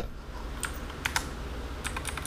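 Typing on a Gigaware K28 budget mechanical keyboard, a few close, sharp key clacks in two short bursts over a low background hum.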